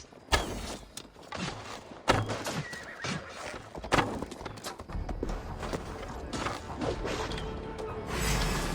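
A horse in the game Assassin's Creed Valhalla whinnies loudly amid clattering hooves and crashing combat noise, with repeated sharp bursts over a busy, continuous game soundscape.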